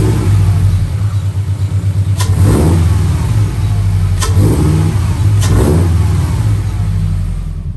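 Car engine fitted with a homemade cold air intake revs loudly and close by, a steady, strong engine drone with several sharp swells and audible intake rush, no voices.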